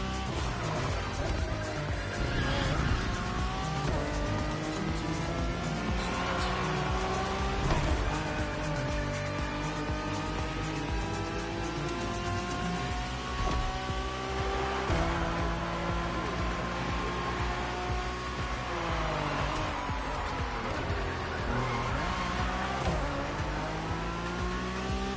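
Acura NSX GT3 race cars in the game The Crew Motorfest drive a touring event with long straights and tight turns. The engines rev high and loud without a break, shifting up and down as the cars accelerate and brake, with occasional tire squeal.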